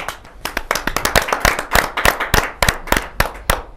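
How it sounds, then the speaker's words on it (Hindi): Enthusiastic applause from the audience at a Hindi kavi sammelan poetry gathering, dense sharp claps in a lively rhythm rising and falling over a few seconds. "जोरदार ताली के साथ।"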